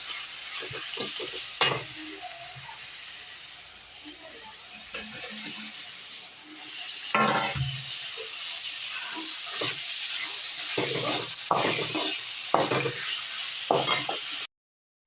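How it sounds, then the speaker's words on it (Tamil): Onions and tomatoes sauté in a pan for a prawn gravy, with a soft steady sizzle broken by repeated scraping stir strokes, fairly close and moderately quiet, with no talking. "வெங்காயம் தக்காளி எல்லாம் நல்லா வதங்கிடுச்சு"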